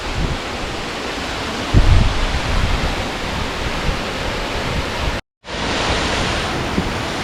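A Yosemite waterfall at low water level pours in a steady, dense broadband rush from close by, with no voices, interrupted only by a brief dropout before the roar resumes.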